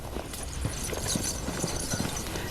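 Several horses approach with riders, their hooves clip-clopping in a quick, irregular rhythm at moderate distance, steady throughout with no talk.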